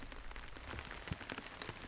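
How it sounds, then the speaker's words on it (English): Rain beginning to fall outdoors in the Eastern Sierra near wild mustangs, a faint, soft patter of drops with scattered light taps, quiet and distant-sounding. "And then it starts to rain."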